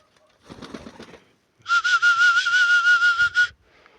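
A grey rock pigeon from a home loft gives a single sustained, loud whistling coo lasting about two seconds, preceded by a brief burst of fluttering or rustling.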